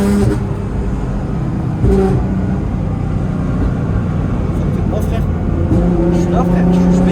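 A Nissan GT-R accelerates, its engine note swelling and rising steadily as heard from inside the car, with people talking over the continuous road and motor noise.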